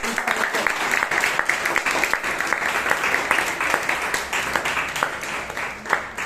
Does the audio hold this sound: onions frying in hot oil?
no